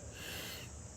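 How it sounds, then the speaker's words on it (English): A trumpet mouthpiece buzzed alone in a lesson, a short steady lip buzz lasting about a second, close and fairly even. "we're going to try this while buzzing on our mouthpiece this time"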